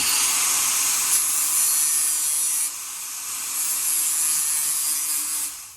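Loud, steady grinding on metal car cowl panels, a harsh high-pitched rasp running continuously with a brief dip partway through, no voices.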